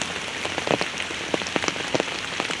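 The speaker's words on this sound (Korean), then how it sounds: "아유 이 비가 오니까" Rain pelts the rocks around a crevice where a kitten shelters from a storm, a steady hiss with scattered sharper drops tapping close by, and no voices.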